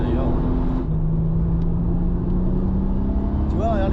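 A Toyota Supra MK4 drives through a run of bends, its engine droning loud and steady from inside the car, the pitch dipping and then climbing again as it lets off and accelerates.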